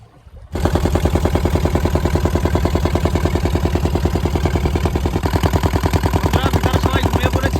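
A boat engine on a Sundarbans river catches after a brief quiet moment and settles into a loud, fast, rhythmic chugging idle, close by and continuous to the end.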